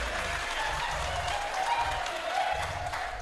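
Steady applause from a crowd fills the room at a church sermon, a dense wash of clapping at a constant moderate level with faint voices mixed in.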